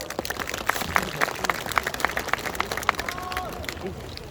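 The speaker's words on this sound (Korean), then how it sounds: "박수 한번 크게 한번 부탁드릴까요" An audience at the award ceremony of an outdoor rapeseed-festival singing contest claps in a loose burst of applause, with crowd chatter and voices mixed in.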